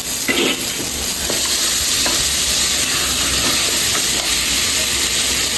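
Capsicum and cauliflower hit a hot pan for Mumbai street-style pav bhaji, giving a loud, steady sizzle and hiss of frying with stirring scrapes throughout.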